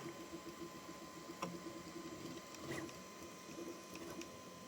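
A quiet Bambu Lab A1 mini 3D printer whirs and ticks steadily while printing in PETG plastic, with small mechanical clicks and a faint motor tone.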